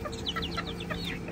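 Chickens cluck in quick, overlapping bursts close by as they peck at food, over a low steady background hum, with no talk.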